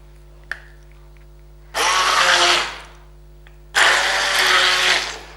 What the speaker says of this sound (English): I have a hand blender, so it makes things easier